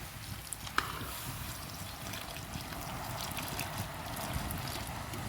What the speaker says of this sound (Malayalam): അപ്പം നമ്മൾ ശർക്കരപ്പാനി ഒഴിക്കാൻ പോകും